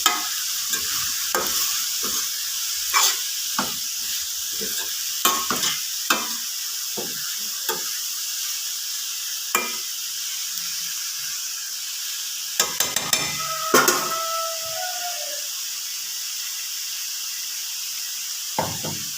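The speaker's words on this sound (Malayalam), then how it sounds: "എന്നിട്ട് പയറുമായിട്ട് ഈ അരപ്പ് മിക്സ് ചെയ്യാം" Green beans tossed with ground coconut paste for a Kerala-style thoran are stirred in a pan, giving repeated sharp scrapes and taps over a soft, constant sizzle.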